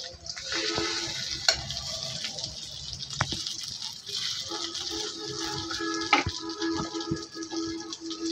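Fritters of rohu fish roe mixed with rice flour sizzle steadily in hot oil over low heat, a continuous bright crackle with occasional sharper pops and light scrapes as they are turned.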